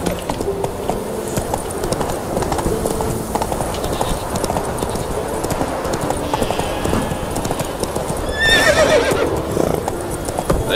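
A horse gallops in The Witcher 3: Wild Hunt, its hooves clip-clopping in a quick steady beat from start to end, with a short whinny near the end.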